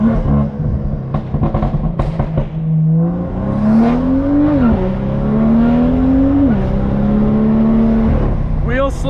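A straight-piped BMW M2 accelerates hard on a country road with wheel slip, its exhaust rising in pitch through several gear changes, loud and close from the cabin, with a voice talking over it.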